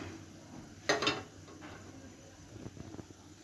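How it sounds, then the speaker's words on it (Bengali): Small fish dropped into a pan of boiling sour chutney, a brief splashing clatter followed by soft bubbling and faint stirring, with quiet room noise underneath. "এখন আমি মাছগুলো দিয়ে দেব।"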